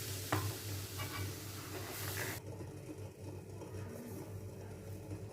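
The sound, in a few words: stirring soup mixture in a pan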